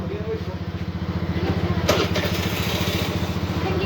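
A Suzuki Burgman scooter with a replaced exhaust pipe runs loud, a close, rapid, throbbing engine pulse with a brief rev near the middle.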